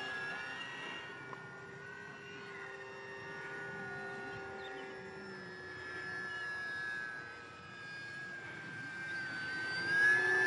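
Kavan Norden light aircraft engine droning steadily in slow flight close to the ground, with throttle worked up and down so the pitch and loudness swell and ease, alone with no talking.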